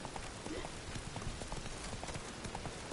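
Roach the horse trotting with quick, even clip-clop hoofbeats in The Witcher 3, heard close under a dense bed of game sound with a voice talking.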